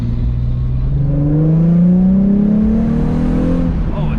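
A Nissan 350Z with a Kinetix Velocity intake manifold revs up close, its engine note rising steadily and loudly, then easing back down near the end.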